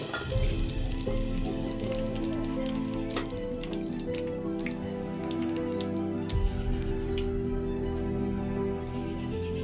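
Handful of fresh curry leaves sizzling and crackling in hot oil, a dense steady spatter with sharp pops, close and loud throughout, no voices.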